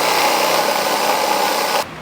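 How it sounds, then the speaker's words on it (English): An old hand drill bores into wood with an unusually long drill bit, giving a steady, loud whirring grind that runs unbroken for nearly two seconds before cutting off abruptly. "I think yay old hand drill should suffice for this job."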